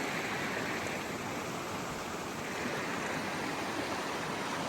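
A mountain creek in the Smoky Mountains rushes and gurgles around big rocks, a steady, close, broadband flowing-water wash that holds even throughout with no voices.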